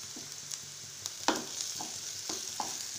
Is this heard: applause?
no